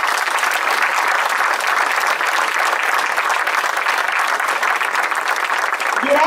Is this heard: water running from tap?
no